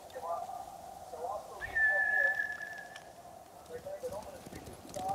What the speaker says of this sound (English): Bastards scared off the horses.